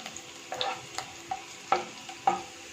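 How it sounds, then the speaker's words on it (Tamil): Finely chopped garlic sizzles softly in hot coconut oil in a kadai while a spatula scrapes and stirs the pan every half second or so. "கடாயில் தேங்காய் எண்ணெய் ஊற்றி அது எண்ணெய் காஞ்சதும் அதில் பொடி பொடியாக நறுக்கின பூண்டை போட்டிருக்கேன்"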